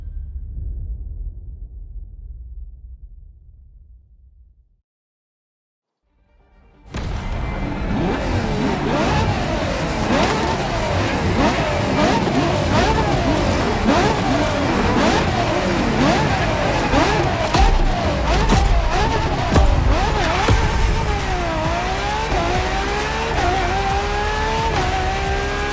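A LaFerrari hybrid supercar in The Crew Motorfest fires up after a quiet lead-in, its engine roaring loudly and revving repeatedly with rising and falling pitch through gear changes, sustained and close for about twenty seconds.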